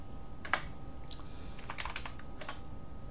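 Computer keyboard keys typed in several short bursts of clicks while a password is entered during a CloverOS Linux installation, close and fairly quiet with no talking.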